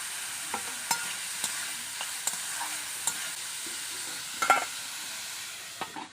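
Chopped capsicum and green chilli fry in a pan with semolina and cauliflower under a steady soft sizzle, and a spoon taps and stirs at regular intervals.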